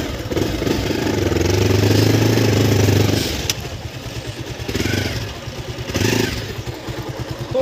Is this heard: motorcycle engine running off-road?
yes